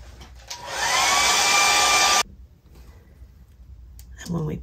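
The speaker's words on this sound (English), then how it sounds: "I'm gonna heat set this real quick." A heat gun heat-setting paint on a resin swimbait blows a loud steady whoosh for about two seconds, then cuts off abruptly and leaves quiet room noise with faint handling sounds.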